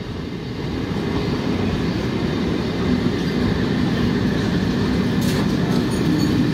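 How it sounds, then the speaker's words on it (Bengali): A train passes slowly through dense fog, a steady low rumble and clatter that stays loud and continuous throughout, with no voices. "এই যে ট্রেনটা যে যাচ্ছে দূরে তা দেখা যাচ্ছে না।"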